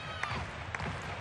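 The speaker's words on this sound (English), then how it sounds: "High energy, he's got the crowd already in it with the clapping." A crowd at a 2006 NCAA women's gymnastics meet, Georgia at Florida, claps along to a floor routine set to music. Evenly spaced claps land about every half second over a dense crowd and music bed.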